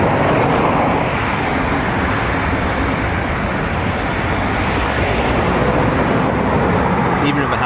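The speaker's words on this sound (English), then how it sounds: "Look at that for a 320 aero brake" An Airbus A320 lands at Dublin Airport using aerodynamic braking, producing a loud, continuous broadband roar that holds steady from start to finish.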